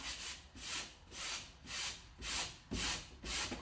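A light electric sander works the freshly sawn edge of a wooden cabinet piece, giving a close, steady rasping hiss that swells and fades in even strokes about twice a second, with no voices.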